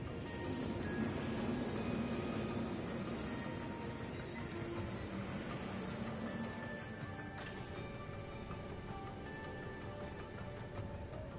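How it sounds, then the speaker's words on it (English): A train arriving in the video game Trails of Cold Steel III rumbles steadily with a continuous broadband roar and high metallic squeals from the wheels, ending in a sharp cutoff of the upper hiss partway through. "Yeah, we got a train too."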